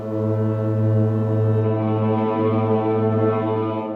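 A trombone imitates the drone of a Shahed attack drone, one sustained, buzzing low tone held steady for several seconds, loud and close with no talk.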